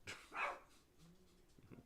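Dogs barking at home, a couple of sharp close barks at the start followed by a soft whimper and faint yips.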